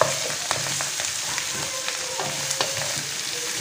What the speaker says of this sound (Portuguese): Vamos entrar agora com uma cebola. Deixa eu dar uma refogadinha aqui.